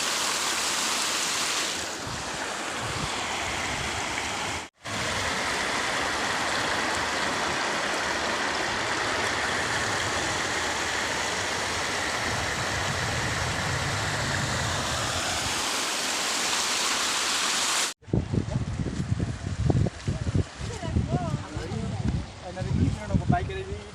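Rushing floodwater after continuous rain in Assam, a steady broadband wash of flowing water that holds strong and loud for about eighteen seconds, broken by one brief gap, then gives way to closer splashy, uneven sounds.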